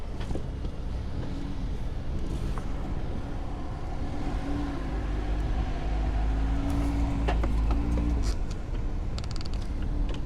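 An off-road vehicle crawls up steep slickrock on the Poison Spider trail in Moab, Utah, its engine droning low and steady with creaking and groaning from the chassis and tires, and no talk.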